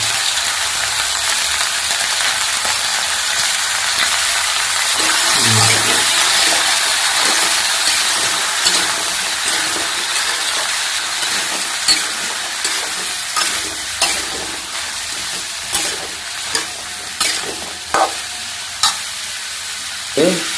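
Potatoes and mixed vegetables with peas, salt and turmeric frying in a pan in a Bengali home kitchen, with a steady sizzle and repeated scraping clinks of a spatula stirring, growing more rhythmic toward the end.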